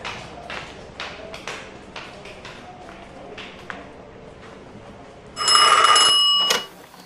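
A telephone rings in a household in Sumedang, a loud electronic ring bursting in for about a second after a stretch of quiet footsteps and light tapping.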